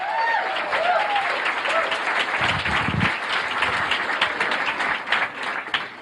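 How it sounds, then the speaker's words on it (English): A comedy club crowd applauds to welcome a human beatbox performer, a dense, sustained roar of clapping that fills the room, with a brief low thump partway through and scattered voices in the crowd. "Let's have a nice round of applause."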